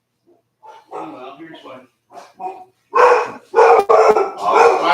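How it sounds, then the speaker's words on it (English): Several dogs bark in loud, close bursts that grow more intense toward the end, overlapping with a voice talking over them. "Noisy dogs. Noisy dogs. Such noisy dogs."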